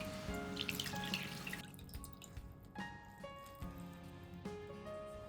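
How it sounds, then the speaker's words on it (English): Excess water drips and trickles from soaked agar being squeezed out by hand for Japanese mizu yokan, a series of close, irregular drips and splashes with no talk. "And then I squeeze out the excess water."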